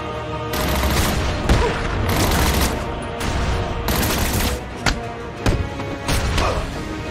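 Enemy gunfire in Batman Arkham City, with heavy sustained bursts of automatic fire broken by short gaps and scattered booms and thuds, loud and close.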